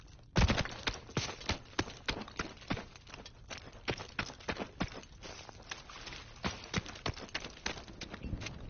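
Distant gunfire crackles in the Call of Duty WW2 video game, a string of quick, uneven sharp cracks and pops spread across the scene at moderate volume.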